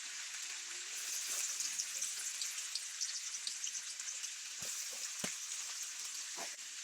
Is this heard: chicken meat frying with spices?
yes